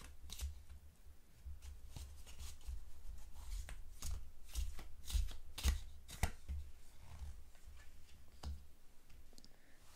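A Kama Sutra tarot deck being shuffled by hand, a steady run of crisp riffling card flutters and snaps that is close and fairly quiet, with no voices.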